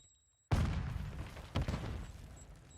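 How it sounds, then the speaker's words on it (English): Video game explosions from a Call of Duty MWII competitive bomb match erupt suddenly after a half second of quiet, a loud blast followed by a second sharp burst and rumbling debris, alone without voices. "Whole bunch of explosions in front of him."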